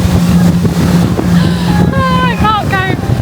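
Off the coast of Ibiza, a motorboat's engine churns at sea with wind buffeting the microphone, a constant loud roar, while brief rising and falling voices or whistles cut through near the end.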